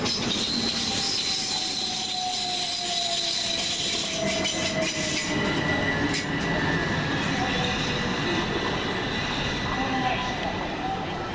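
A train rumbles steadily at a platform at East Croydon station with long metallic wheel squeals and rail noise, a continuous loud wash of sound with faint voices mixed in.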